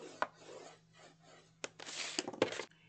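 A scoring tool is drawn across folded cardstock for a desktop organizer, producing short dry rubbing strokes with a few sharp taps, close and quiet over a faint steady hum.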